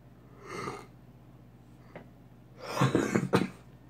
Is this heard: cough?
yes